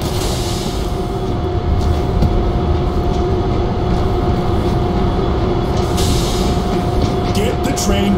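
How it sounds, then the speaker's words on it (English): Train rumbling along the tracks in the video game World War Z, a loud continuous rolling roar with faint clatter, steady throughout. "Get the train going."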